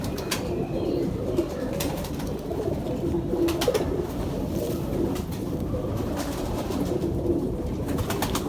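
Pigeons coo steadily in low, throaty rounds, close by, with soft rustling and flutter around them.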